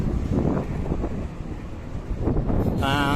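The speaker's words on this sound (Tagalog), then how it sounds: "dito may magandang hangin dito eh" Strong wind buffets the microphone in rumbling gusts, with a faint voice mixed in and a brief tonal warble at the end.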